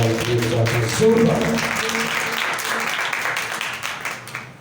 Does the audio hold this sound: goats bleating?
no